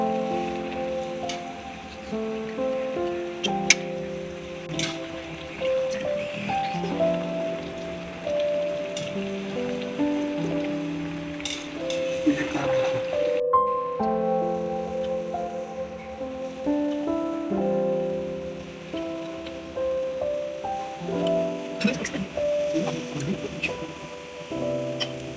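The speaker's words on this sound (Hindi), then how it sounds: "आप हल्की आंच पे पकोड़े फ्राई करें।" Pakoras fry in oil over a low flame, a steady rain-like sizzle running underneath prominent background music for the whole stretch.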